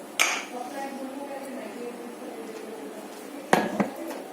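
Glasses of lemon Tang slush clink together in a cheers toast: one sharp, close clink at the start and another bright clink near the end, with a low hum and voices in between.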